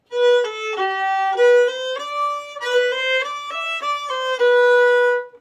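Solo fiddle plays the A part of the old-time tune Squirrel Hunters: a continuous phrase of bowed notes stepping up and down in pitch, close and even in loudness, with no voices.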